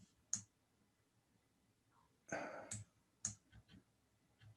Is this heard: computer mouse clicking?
yes